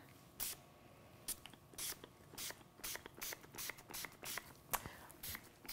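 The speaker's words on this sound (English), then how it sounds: "I always like to spray with rubbing alcohol because that prevents soda ash." Short bursts of a spray bottle hiss in irregular succession, about a dozen quick pumps of 99% rubbing alcohol onto fresh cold-process soap, close and crisp in a quiet room.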